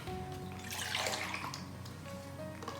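Water pouring steadily into a cup, a continuous splashing rush that swells briefly in the middle and then settles, close and fairly clear, with no talk.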